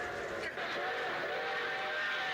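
Train running on a railway track in a TV episode, heard as a steady loud rumble with a sustained whistle-like tone throughout, voices faintly underneath.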